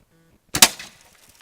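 A single loud gunshot fired at an LCD screen cracks out sharply after a short quiet pause, followed by a brief ringing decay and faint rustle.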